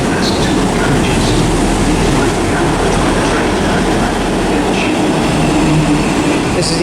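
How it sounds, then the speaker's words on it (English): A South Western Railway two-carriage train runs through Southampton Central station with a loud, continuous rumble and rail noise, faint clicks and hiss over the steady roar. "This train has two carriages."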